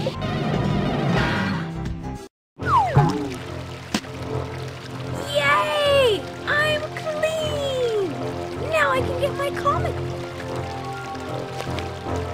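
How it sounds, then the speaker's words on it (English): Shower water pours down steadily in Pajama Sam 4, a continuous splashing spray that runs for over ten seconds while cartoon voices speak and chirp over it. "Water is falling from the sky."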